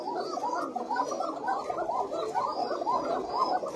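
Koka pigeons on a farm give a continuous, throaty, bubbling coo, close and fairly loud, rolling on without pause and with no talking.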